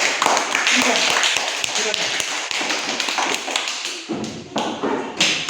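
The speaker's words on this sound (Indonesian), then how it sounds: "tepuk tangan untuk kelompok" Students in a classroom clap for a group, a close, busy spatter of hands that thins and breaks off near the end, with voices mixed in.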